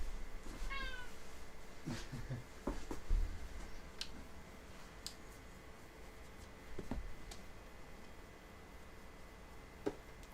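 Short meows from a cat named Charlie at around one second, with faint ticking and tapping in a quiet indoor room near a 3D printer setup.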